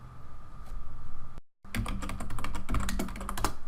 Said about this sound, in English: And type in Vagrant up.